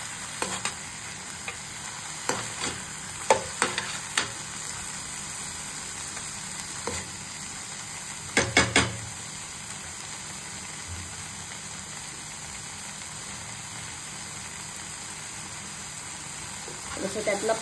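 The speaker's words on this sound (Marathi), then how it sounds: "सगळीकडे कूटही मिक्स करून घ्यायचा आहे।" Crushed peanut powder is stirred into methi bhaji of fenugreek greens, giving a low sizzle in the pan with scattered scraping taps of the spoon and a brief burst of clatter near the middle.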